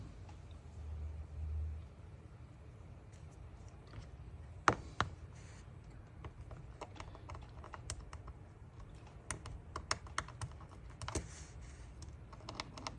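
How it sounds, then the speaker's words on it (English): A small screwdriver scratches and scrapes buildup off a metal top with quick irregular scratchy taps and strokes, fairly faint and close over a low background rumble, no talk. "just take that screwdriver and scratch the top of it, get that build up off of it"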